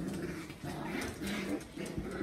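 A mother dog with her young puppies gives soft whimpering and whining sounds, close by and fairly quiet, with faint rustling around her.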